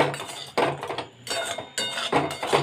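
A spoon scrapes and clinks against a bowl while tossing crispy fried masala corn, giving several bursts of rattling, scraping stirs close to the mic with short pauses between them.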